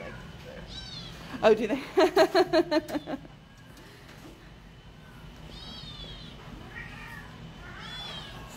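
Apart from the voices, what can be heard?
kittens meowing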